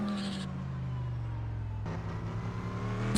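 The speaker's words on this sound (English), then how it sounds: "the Corvette just sounds slow because of the kind of drone from the engine" A Corvette race car engine at the Daytona 24 Hours drones at a steady, loud pitch, sustained throughout with a slight shift in tone partway through as another engine note joins.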